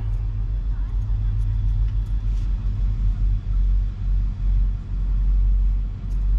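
A four-wheel-drive Ford truck rumbles with a deep, steady engine drone at a vintage car meet with BBQ and burnouts, loud and close throughout with slight dips, and faint voices may sit underneath.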